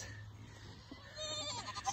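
Full-blooded fainting goats bleating on a hobby farm, a faint, brief call rising near the end over a low steady background hum.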